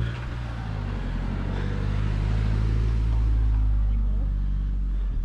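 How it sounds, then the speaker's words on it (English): Road traffic near the Roman villa at Chedworth, Gloucestershire, with cars passing close by as a steady loud engine rumble that swells and fades, alongside wind buffeting. "We're just waiting for the traffic to go."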